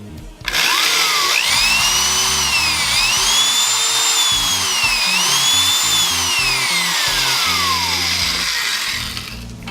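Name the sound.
hand power tool drill running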